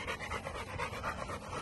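Seven-week-old Rottweiler puppies pant rapidly and continuously up close, a soft breathy rhythmic huffing with no talking.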